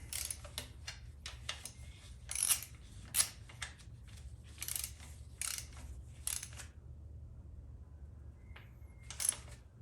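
Bolts on a Ford 4R100 transmission extension housing being torqued in a crisscross pattern, giving a series of sharp metallic clicks and ratcheting bursts, some in quick clusters, over a low steady hum, close and moderately loud.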